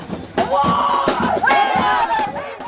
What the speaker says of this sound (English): There is a vocal crowd at this protest